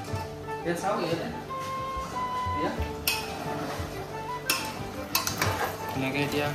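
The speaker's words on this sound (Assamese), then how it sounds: "ধুনীয়াকৈ এতিয়া 5 মিনিটমান ভাজিব লাগিব।" Pork stir-fried in a pan for a Sunday meal among friends: spatula scrapes, metal clinks and a low sizzle run through the whole stretch, with people talking nearby.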